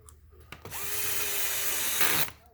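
A power drill with its clutch set to 9 drives screws during a Traxxas X-Maxx motor rebuild, a short blip then a steady close whirring run of about a second and a half that stops abruptly.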